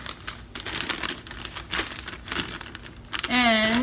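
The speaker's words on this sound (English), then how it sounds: "First, you have to put the head in a Ziploc bag," A plastic Ziploc bag crinkles up close as a rooted-hair doll head is pushed inside, a steady rustle of handling noise with a voice talking over it and a brief tonal squeak near the end.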